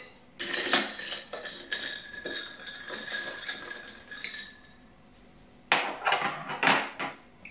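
A Ferrari cocktail is stirred and mixed in a glass, metal spoon clinking and scraping against the glass in quick bursts, close up, then a pause before another short clatter.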